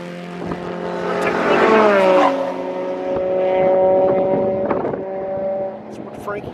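Race car climbing a hill at a motorsport track, with a strained engine note rising and shifting pitch over several seconds, moderately loud and a little distant, with people talking over it.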